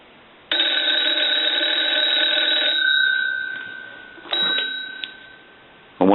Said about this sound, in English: ring the telephone with the analyzer like you were getting a call